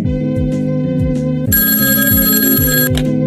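A telephone rings loudly and steadily in a repeating electronic bell pattern, with a brighter, harsher ringing layer joining partway through and then dropping away near the end.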